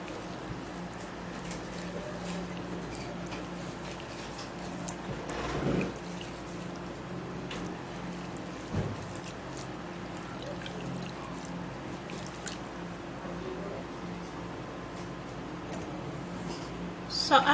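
Water runs steadily from a tap as an onion is washed, a soft continuous splashing hiss with a few brief knocks and thuds scattered through it.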